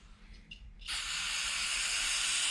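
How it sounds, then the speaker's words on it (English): Carb cleaner sprayed from an aerosol can to degrease Goped engine parts during a carburetor install: a faint click, then a loud, steady hiss that runs unbroken to the end. "I like to degrease these areas really well with like carb cleaner before I put them together."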